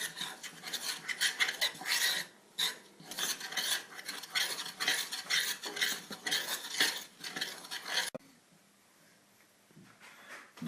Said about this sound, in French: Et je vais mélanger d'abord à la cuillère et après à la main.